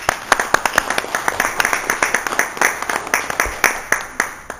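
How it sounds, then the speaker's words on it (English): Applause from the audience at a city council meeting in Clear Lake Shores, a steady patter of many hands with sharp individual claps scattered throughout, filling the room with no talking over it. "So let's give him another round of applause."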